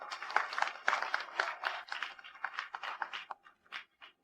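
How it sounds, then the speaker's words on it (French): Applause welcoming newlyweds at a wedding reception: a scattered burst of hand claps, fairly faint and thinning out toward the end, with no voices over it. "accueillons les jeunes mariés sous un tonnerre d'applaudissements"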